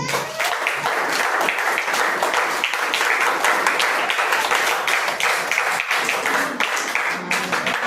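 A church audience at a Sunday rally prize distribution applauds steadily, dense crowd clapping filling the whole stretch at even loudness.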